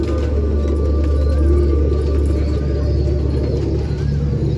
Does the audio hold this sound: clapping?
no